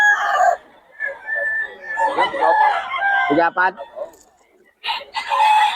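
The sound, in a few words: Kelso crossbreed gamecock roosters crowing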